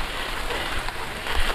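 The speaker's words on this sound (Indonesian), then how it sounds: "Masya Allah, hujan besar." Heavy rain pours steadily onto a rural village at a forest edge, a dense continuous hiss close by with no talk.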